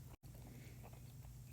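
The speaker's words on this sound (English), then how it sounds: "I'm still chewing" Someone chews a mouthful of leftover cooked cabbage close to the microphone, with soft, faint biting and mastication sounds over a quiet background hum.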